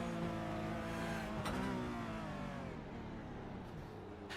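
A Porsche Cup race car in the iRacing sim, heard onboard: a fairly quiet engine note rises and falls with shifting pitch, with a brief sharp change near the middle and no talk.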